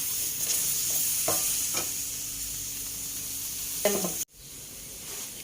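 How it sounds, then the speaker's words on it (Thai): Chilli and fermented fish mixture dry-roasting in a pan for a dipping sauce, a continuous close hiss with occasional stirring scrapes, cutting off abruptly near the end before a faint hiss resumes. "แล้วก็คั่วต่อไปจน ของทุกอย่างสุกนะคะ แล้วก็เกรียม นิดๆนะคะ"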